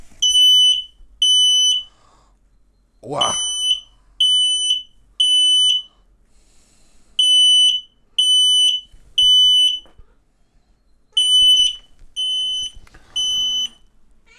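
An X-Sense XS01-WT WiFi smoke detector alarm sounds in loud, high-pitched beeps in groups of three, repeating with short pauses, while a person briefly exclaims over it.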